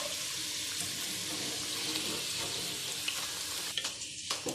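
Chicken Manchurian pieces frying in hot oil in a pan, a steady dense sizzle that holds throughout, with a few small clinks and splashes near the end.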